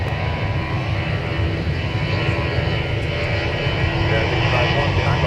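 Airliner engines at Minneapolis–Saint Paul airport, a loud continuous roar with a whining edge that holds steady and unbroken throughout.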